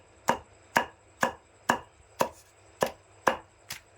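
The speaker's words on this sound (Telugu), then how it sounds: "సో గోంగూర అయితే ఉడకబెట్టి రోట్లో వేసి నూరుకోవాలి, మెత్తగా నూరుకోవాలి" Boiled gongura leaves pounded in a stone mortar, eight sharp, evenly spaced thuds about half a second apart, close and clear with no talking.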